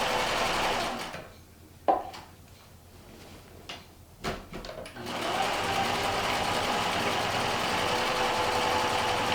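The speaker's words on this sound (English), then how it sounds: "For this one, I just sew from corner to corner." A sewing machine stitches a quilt for a quillo from corner to corner: a brief burst of stitching, a pause filled with handling knocks and rustles, then a long, steady, close run of the motor.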